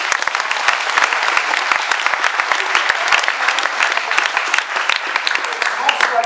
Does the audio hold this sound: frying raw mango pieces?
no